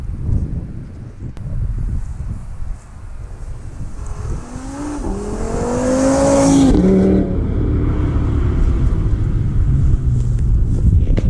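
An Audi RS3 five-cylinder engine revs hard and pulls away, its rising, warbling exhaust note climbing and swelling loud and close over wind noise before settling into a sustained drone.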